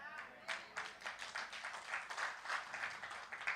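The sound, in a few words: congregation applauding in church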